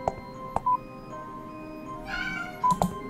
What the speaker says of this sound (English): Loud cat.